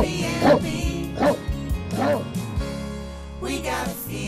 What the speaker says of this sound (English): Please excuse the doggies always barking in our B&B.